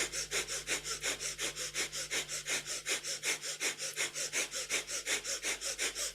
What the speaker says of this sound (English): egg whisk our hands in front of our heart, nice and fast with a breath of fire